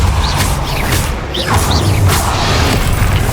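A Confringo spell explosion in Hogwarts Legacy: loud, booming blasts with whooshing magical effects, continuous and close, with rumbling crash textures throughout.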